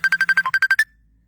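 A phone ringtone chirps in a quick run of about ten bright, evenly spaced electronic beeps, close and clear, then stops abruptly into near silence; no talk.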